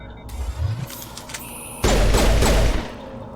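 Pistol shots in the Mass Effect video game ring out in a loud, dense burst of rapid reports about midway through, following quieter combat noise with no talking.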